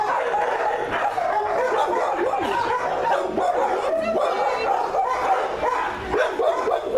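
Dogs at a humane society shelter bark, yip and whimper in a busy run of overlapping calls close by, and people talk over the noise throughout.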